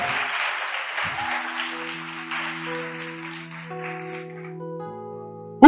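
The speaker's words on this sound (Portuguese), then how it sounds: "Pode aplaudir." An audience at a church sermon claps in a sustained round of applause that thins out, while a sustained music bed plays under it; a loud thump lands at the very end.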